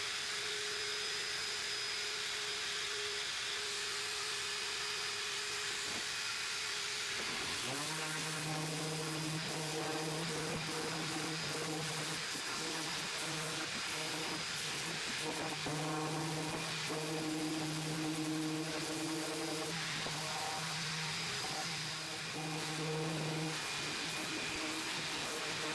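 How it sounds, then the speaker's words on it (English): Power sander working over a wooden planter built from 2x4s. A soft hiss runs at first, then the motor spins up into a steady whirring drone with slight pitch shifts as it moves across the wood. No talking. "Sand everything nice."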